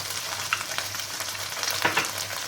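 Meat with onion and garlic for kavurma sizzles steadily in a pan, with scraping stir strokes and a short clatter near the end.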